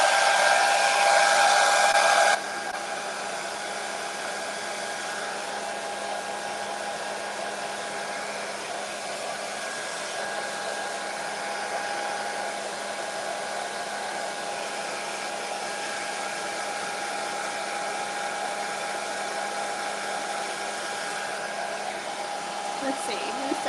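A hair dryer blows steadily and close on a custom art piece, a constant whooshing hum with a louder burst at the start, then running evenly for a long stretch with no talk.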